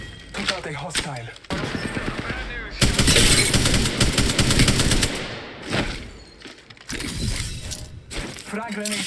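Dense bursts of automatic gunfire and mechanical clatter from a shooter video game, loud and near, coming in rapid volleys with brief pauses between and game sounds mixed throughout.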